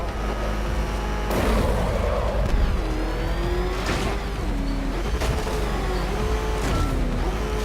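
The Batmobile engine in Batman: Arkham Knight growls and revs: loud, rising and falling pitch sweeps with a heavy low rumble, punctuated by sharp booming bursts.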